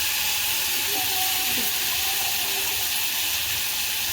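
Masoor dal masala mixture sautéing in hot oil produces a loud, dense, unbroken hiss and sizzle that stays close throughout, with faint clattering beneath it.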